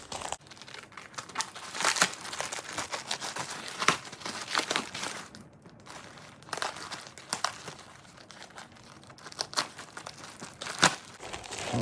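Tape-wrapped plastic bags holding a pressure washer wand are unwrapped nearby, producing irregular crinkling, rustling and sharp tearing sounds in quick bursts with short pauses.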